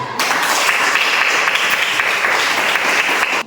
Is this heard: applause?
yes